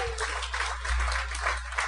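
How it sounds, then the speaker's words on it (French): Applause from a comedy show audience, a dense steady wash of clapping lasting a couple of seconds, with a low hum underneath. "Merci d'applaudir."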